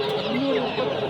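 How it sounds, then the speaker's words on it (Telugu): Chickens cluck at a busy poultry market, a short run of clucks and squawks mixed with background chatter from the crowd. "ఇక్కడ టర్కీ కోళ్ళు,"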